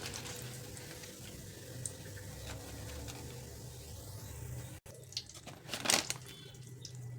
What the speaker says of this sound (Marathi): अशाच पद्धतीने आपल्याला सर्व तळून घ्यायचे मस्त तळले